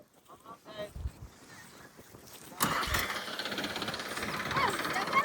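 A tractor engine on a farm during groundnut threshing starts up partway through, turning into a loud, steady, close rumble after a stretch of quieter voices and background noise.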